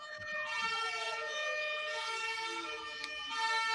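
A European ambulance siren wails with rising and falling tones, loud and steady throughout, with no talking over it.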